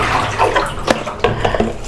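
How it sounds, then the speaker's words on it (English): Rice being rinsed under a running tap, steady splashing water flowing into a bucket in a home kitchen, continuous and close with brief sharper splashes. "then we're going to clean the rice. So, the rice is running more clear."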